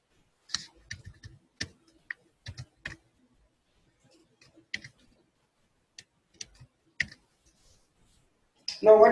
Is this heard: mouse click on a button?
yes